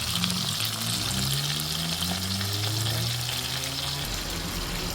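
Escovitch sprat fish frying in hot oil, a steady loud sizzling crackle that continues without pause throughout, with a low hum underneath.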